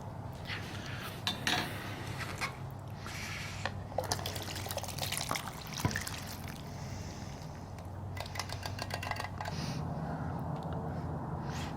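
Chicken and root vegetable soup splashes and trickles into a camp bowl with clinks and scrapes of a utensil against the bowl, close up and fairly quiet.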